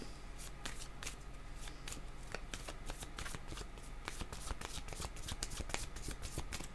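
Cards being shuffled and drawn by hand during a card reading, a steady run of close, crisp riffling snaps and soft slides throughout.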